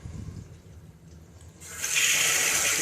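Water rushes through a hose during an aquarium water change, beginning as a steady, bright hiss about halfway through and continuing strongly to the end after a quieter, rumbling lead-in.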